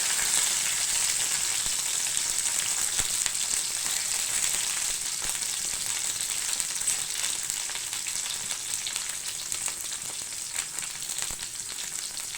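Ivy gourd pieces frying in a pan with garlic and curry leaves, a continuous close sizzle with bright crackling spatter, steady throughout and slowly easing toward the end.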